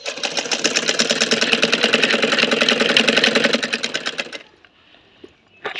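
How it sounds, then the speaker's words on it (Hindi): A sewing machine stitches a salwar with a loud, fast, steady mechanical rattle for about four seconds, then stops abruptly, leaving near silence with a faint click. "तो अब मैं सिलाई कर लेती हूँ शलवार में।"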